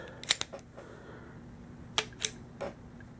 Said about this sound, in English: Got the bolt working real nice.